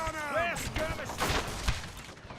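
Gunfire in a video game battle against natives: bursts of shots and cracking reports under a voice, with scattered impacts and a busy battlefield din throughout.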